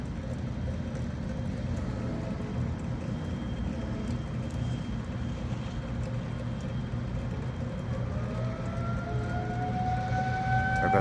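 Low steady rumble, with a distant tornado siren tone rising out of the background in the last few seconds.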